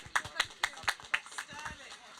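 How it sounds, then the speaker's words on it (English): A single person clapping at a slow, even pace, about eight distinct claps, fairly close and soft, at an informal community talk show on a housing estate, with speech murmuring faintly underneath. "I'm going to hit you with a round of applause."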